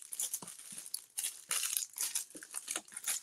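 Small plastic bags crinkle and rustle in close handling, with bursts of dry crackling that come and go unevenly, no voices over them.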